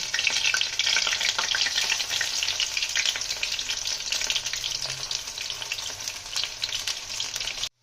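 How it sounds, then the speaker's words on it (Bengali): Drumstick flower fritters (sajne phool bora) frying in hot oil, a steady, loud, dense sizzle and crackle that runs without pause for several seconds before cutting off abruptly. "আমাদের তেল গরম হয়ে গেছে, আমরা বড়াগুলো ভেজে নেবো।"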